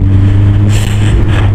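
A 2002 Yamaha Fazer 1000 motorcycle engine picks up from low revs around 1500 rpm, a loud, close, steady low rumble with a slight swell as it pulls.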